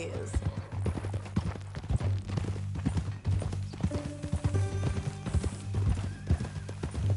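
Horse hooves clip-clop at a steady walking rhythm in a western ranch PS4 game, close and clear, with a short whinny and some background music.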